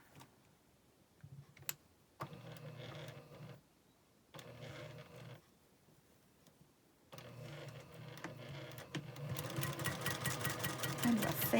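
A sewing machine stitches a quilt block seam a quarter inch from a marked diagonal line, running in several bursts separated by pauses, then a long continuous run that grows louder toward the end.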